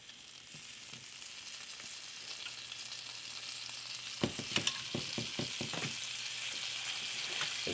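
Fat melts in a hot frying pan before pork chops go in, giving a steady close sizzle with a few sharp pops and crackles partway through.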